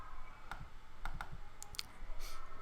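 Several sharp, quiet clicks from a computer mouse arrive in quick irregular succession over a few seconds against a soft background.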